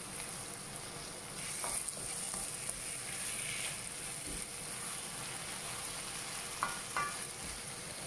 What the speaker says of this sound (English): So we're going to fry this for a few minutes.